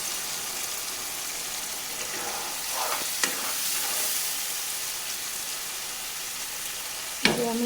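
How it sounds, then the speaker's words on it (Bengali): Spice-coated fish sizzles gently in oil over a low gas flame, a soft continuous frying hiss with a brief clatter partway through and a sharper knock near the end. "আমি একদম গ্যাসের আঁচ কমিয়ে এইভাবে মশলা মেখে মাছটা তেলে দিয়ে দিলাম"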